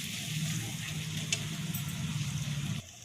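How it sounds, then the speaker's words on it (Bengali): Masala spices frying in a pan for Bengali-style ghugni, giving a steady, moderately loud sizzle with a low bubbling hum throughout, which stops abruptly near the end. "এরপর এই মশলাটা একটু কষানো হোক"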